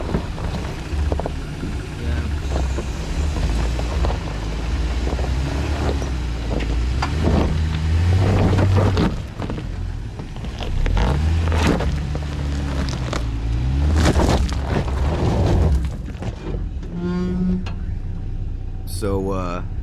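A truck crawling over rocks off-road on the Black Gap route in Big Bend National Park, nearly tipping; steady loud engine drone with rumbling, jolting surges and scraping, continuous throughout.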